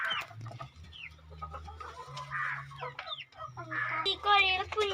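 Three-month-old chickens cluck and chatter close by in repeated short calls, with occasional louder squawks and a low background hum throughout.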